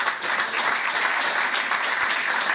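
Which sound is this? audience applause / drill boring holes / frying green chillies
audience applause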